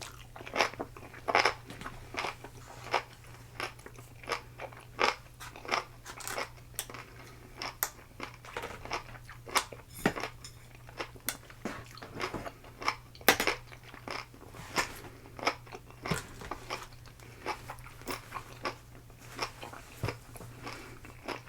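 Close, quiet chewing of sushi, with soft crunches and irregular wet bites scattered over a steady low hum, no talking.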